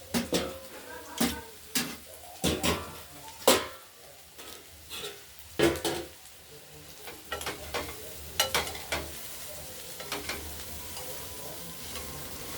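Diced potatoes and cauliflower fry in oil in a kadai, with a steady soft sizzle under repeated sharp scrapes and clinks of a spatula stirring against the metal pan.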